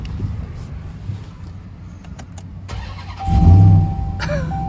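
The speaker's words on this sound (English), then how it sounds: "Let's hear how that V8 sounds." The 702 hp V8 of a RAM TRX pickup truck cranks and catches with a loud, deep rev. It then settles into a rumbling idle after a few seconds of quiet cabin noise.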